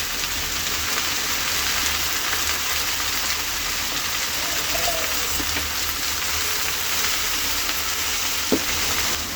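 Sliced okra sizzling and frying in oil in a pan with salt and turmeric as it is stirred, a loud, continuous crackling hiss with occasional scraping of the spoon, close up and without talk.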